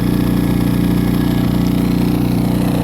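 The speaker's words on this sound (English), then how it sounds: "I'm going to go ahead and turn it on the eco mode. Get it idling right down." A Powerhorse inverter generator idling in eco mode after a cold start, a steady, loud, even engine hum with a fine rapid pulse and no other sounds.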